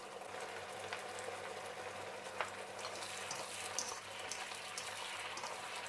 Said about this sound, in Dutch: Even een paar minuutjes laten sudderen.